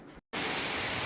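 Steady rain falling in India, a dense continuous hiss of drops on surfaces that cuts out briefly and then returns at full, even strength with no voices.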